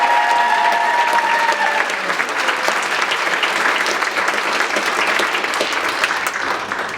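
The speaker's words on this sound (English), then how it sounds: "Let's give Linda a round of applause" Audience applause at an environmental education awards event, sustained clapping from a sizable crowd that stays even and loud for several seconds, with a faint tonal ring near the start.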